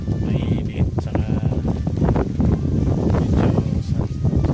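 Strong wind on a desert concrete pouring site where a mixer truck works buffets the microphone with loud, continuous low rumbling gusts, and faint voices sit under it.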